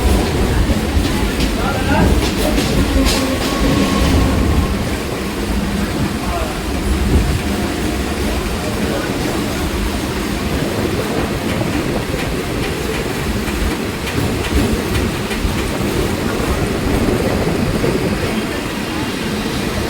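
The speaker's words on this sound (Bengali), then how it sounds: "আমরা এদিকে নামখানা দিকে যেতে শুরু করলাম আমাদের ট্রেনটাও ছেড়ে দিয়েছে" A train just departed toward Namkhana, West Bengal, rolling steadily along the rails, a loud continuous rumble with rhythmic clatter of wheels throughout.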